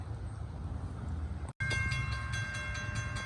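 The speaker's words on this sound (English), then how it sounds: "Nope, we got a CSX train coming." A southbound CSX freight train draws near a storm-damaged railroad crossing, a steady rumble of rail noise and wheels that cuts out briefly, then returns louder with sustained high horn-like tones.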